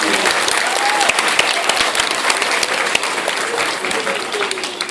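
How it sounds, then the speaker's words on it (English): An audience applauds after a piano performance at a school concert, dense steady clapping filling the room loudly throughout without a break. "Another round of applause for Miss Carpenito on piano."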